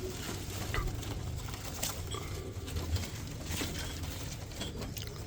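Baghdadi pigeons in a loft cooing softly, low murmuring coos layered with faint wing and foot patter and occasional small chirps, close but quiet, no voices.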